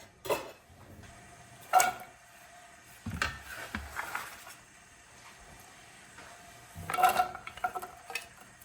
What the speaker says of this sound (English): So I'm gonna add the carrots and celery in.